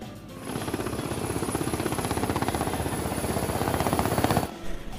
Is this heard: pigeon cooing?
no